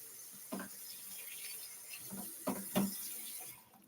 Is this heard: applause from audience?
no